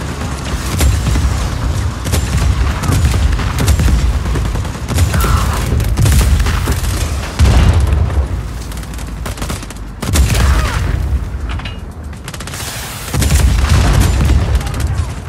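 Explosion of a blown-up gun in the video game Just Cause 4, loud booms amid dense gunfire and crackling blasts that continue throughout, with brief lulls between.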